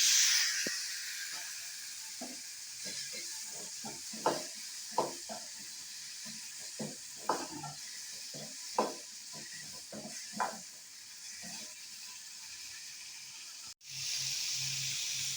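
Onions sizzle softly in a pan under a steady hiss, with scattered clicks and scrapes of stirring; no one speaks.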